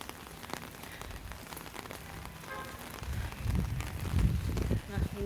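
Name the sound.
rain falling on a street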